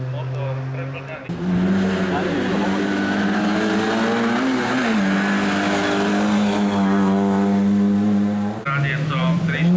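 Turbocharged race car engine at the Jankov vŕšok hill climb, a loud sustained roar with strong harmonics that holds steady, dips briefly, then rises again close to the microphone.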